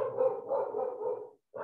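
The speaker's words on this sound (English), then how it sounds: "Sorry about the dog noise." A dog barks in a continuous run of loud, close barks and yips for over a second, breaking off briefly before starting again, heard during an outdoor presentation on floodplain design and construction.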